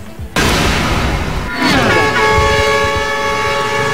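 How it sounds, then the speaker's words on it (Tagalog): Several bus horns blare together in a loud, sustained noise barrage at the Southwest Integrated Terminal in Parañaque, overlapping tones swelling and layering with no pauses. "umalingaw nga ang malakas na busina ng mga bus sa Southwest Integrated Terminal sa Paranaque"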